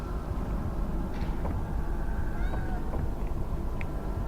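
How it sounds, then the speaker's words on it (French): A cat in the Harry Potter PS1 video game gives faint, brief meows over a constant low droning game background, with no talking. "attention, le chat n'est pas gentil"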